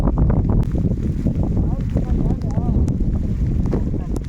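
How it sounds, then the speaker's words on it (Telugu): A strong headwind buffets the microphone in a constant low roar, with water sloshing around a small boat on a fishing pond and faint voices underneath. "చూడండి గాలి ఎదురుగాలి కదా"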